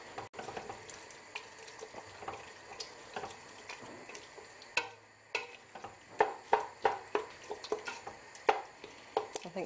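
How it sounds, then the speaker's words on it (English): Bean chilli being stirred in a pan, soft scraping and gentle sizzling with irregular clinks and sloshes growing more pronounced toward the end, fairly quiet and close with no talking. "Give that all a good stir."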